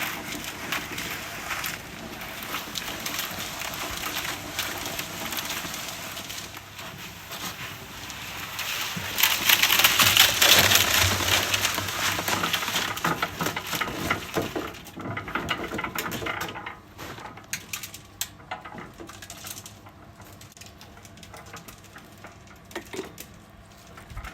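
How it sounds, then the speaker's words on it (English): Breeze block concrete mix tipped from a mixer into a wheelbarrow swells into a gritty rushing pour midway, over a steady rattling machine clatter that thins out toward the end. "I'm ready to dump this mix into my barra, wheelbarrow"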